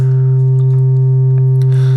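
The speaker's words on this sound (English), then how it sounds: "I mean, they're sine waves." A loud, steady sine wave drones from a Cre8audio East Beast or Pittsburgh Modular SV-1 synthesizer, a pure sustained tone with faint clicks and a brief burst of hiss near the end.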